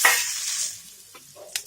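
Brinjal pieces sizzling in a hot pan, a bright hiss that fades after the first moment, followed by a few light clinks and scrapes of a utensil near the end, with no talking.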